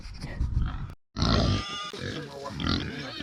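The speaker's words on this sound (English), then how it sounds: "the little pig went in with the feeder pig, and seems to just be chilling over here with the feeder pig" A piglet and a feeder pig grunt and snuffle up close in an Idaho pasture, a run of rough low grunts broken by a short silence.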